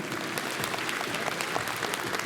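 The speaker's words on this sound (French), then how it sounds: "j'aimerais qu'on les applaudisse bien fort" A dense, continuous burst of audience applause for hairdressers and make-up artists before a chocolate fashion show, loud and steady throughout.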